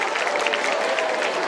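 Steady applause from a crowd of schoolchildren and teachers at a Basant Panchami school function, a dense wash of many hands clapping at an even level with no talk over it.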